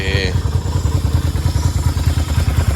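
A Keeway Blackster 250 motorcycle engine idles close by with a rapid, even pulsing thump, loud and steady, after a brief high tone at the very start.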